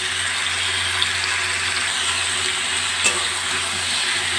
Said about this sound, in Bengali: সবজিগুলো ভাজার সময় মাঝে মাঝে একটু নাড়াচাড়া দিয়ে দিতে হবে।